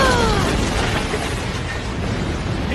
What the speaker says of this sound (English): Oh, boom! Oh, explosion!